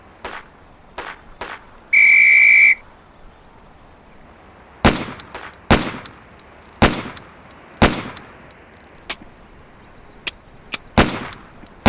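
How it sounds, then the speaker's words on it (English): In the Police Quest: SWAT video game, a single sustained, shrill whistle blast opens a combat reflex drill, then sharp gunshots crack out one after another at irregular intervals. "On the whistle."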